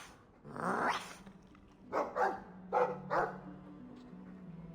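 A dog in the video game Dragon Age 2 gives a gruff bark, then a quick run of four sharper barks, fairly faint over a low steady game hum.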